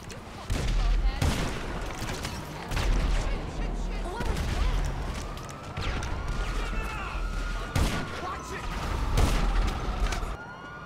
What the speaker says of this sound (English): Did he kill you with the MG?